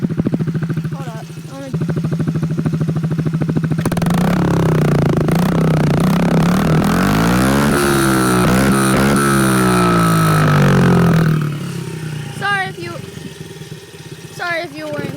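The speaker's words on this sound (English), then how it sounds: "I'm gonna be doing a trail riding video with my dirt bike." A dirt bike engine idles, then revs hard several times in rising and falling sweeps up close before settling back, with a person talking over it.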